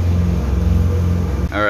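Engine running at full throttle around 2,500 to 2,700 RPM, a loud steady rumbling drone held close, with a voice breaking in at the end.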